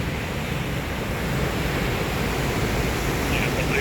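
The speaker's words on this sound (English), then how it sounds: "See a bit of water cascading down there as well." Athabasca Falls in Alberta, Canada, partly frozen in April, with water cascading below: a steady, broad roar of rushing water fills the whole clip at constant loudness, like distant surf, with no pauses.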